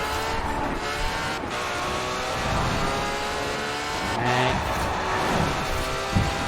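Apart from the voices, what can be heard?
car engine and tire squeal while driving, video game Forza Horizon 4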